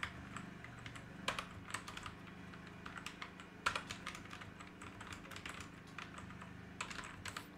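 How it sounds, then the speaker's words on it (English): Computer keyboard keys tapped steadily in bursts while text is typed into a Google Docs table cell, the clicks close and clear over a faint low background hum, with no voices. "Now just type your text."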